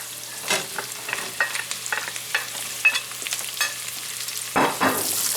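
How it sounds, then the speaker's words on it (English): Butternut squash and a few sprigs of thyme cook in about two ounces of butter in a pan, giving a steady soft sizzle broken by scattered clicks and scrapes of stirring, with a louder burst of activity near the end. "we're gonna cook our butternut squash with a few sprigs of thyme"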